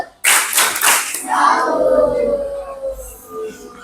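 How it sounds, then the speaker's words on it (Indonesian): Classroom of children giving a rhythmic salute clap for a student, a few loud sharp hand claps in quick succession followed by children chanting together. "Kasih dia tepuk salut."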